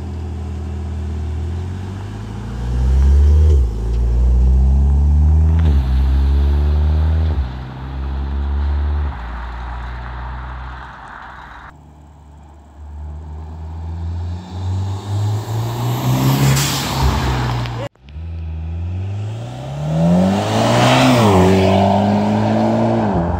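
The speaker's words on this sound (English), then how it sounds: "how about we go for a little drive, Banj?" A Mitsubishi Evo X with an SST dual-clutch gearbox accelerates hard, the engine revving up through repeated quick gear changes, loud and close, with a brief drop to idle before pulling away again.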